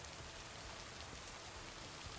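Steady rain falls throughout, a dense, even hiss of drops hitting surfaces outdoors near a lake. It sounds moderately close and continuous, with no talking.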